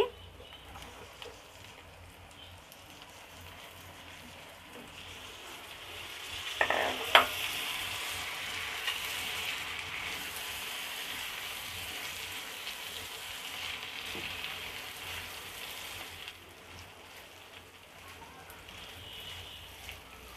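Chopped potatoes drop into a pan of spices, setting off a louder burst of sizzling over a soft steady fry, with a spoon clink and stirring, then the hiss eases back down, no talk.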